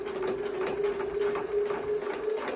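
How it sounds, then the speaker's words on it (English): Steady, close whirring hum of a sewing machine stitching a curved fabric seam a quarter inch in, running continuously with a fine rapid needle chatter. "it's sewing a nice curve here, staying 1/4 of an inch in"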